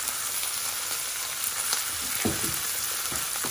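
Butter and skin-on garlic cloves sizzle hard in a pan with a cooked tomahawk beef rib steak, a loud, dense crackle throughout with a few clunks of the pan near the end.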